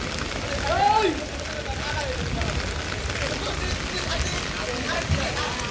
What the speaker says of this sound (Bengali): বৃষ্টি হচ্ছে প্রচুর